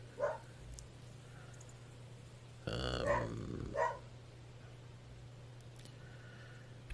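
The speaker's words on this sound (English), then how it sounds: "He's still barking out into the yard at stuff." A dog in the video game Stardew Valley barks a few times from a porch toward the yard, short and clipped, over a steady low hum, with a rougher growl-like burst in the middle.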